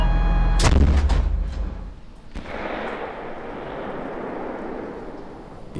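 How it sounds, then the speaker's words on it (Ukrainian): A single loud artillery boom close by at a frontline position near Toretsk, followed by a rolling rumble and a sharper crack that trails off into lingering echo. "Постріл!"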